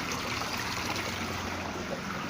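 Water flows continuously out of catfish tanks during a daily water change, a steady close trickling and rushing stream with no pauses.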